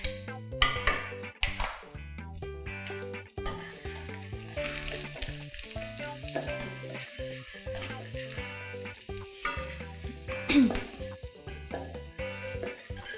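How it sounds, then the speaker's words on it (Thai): Steady sizzling of chopped garlic stir-frying in hot oil in a pan, with occasional clinks and scraping of stirring, fairly quiet and continuous. "ตามด้วยกระเทียมสับนะคะ ผัดให้หอมก่อนค่ะ"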